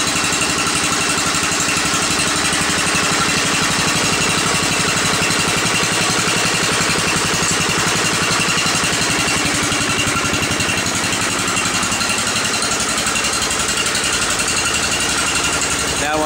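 Several engines idling together on a cold start before a snowstorm, a loud, steady, rattling drone that runs unbroken the whole time.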